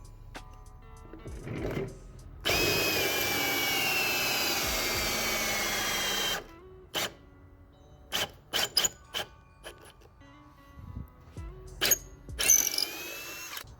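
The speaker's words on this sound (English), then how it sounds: "and drill your hole." A power drill whirs steadily for about four seconds while drilling holes in a wooden panel, then stops, followed by scattered knocks and clatter of handling wood and tools.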